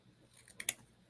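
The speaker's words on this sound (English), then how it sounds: "Let me get my scissors." Scissors picked up and handled during an ornament craft session, a couple of quick, light metallic clicks and snips close by in an otherwise quiet room.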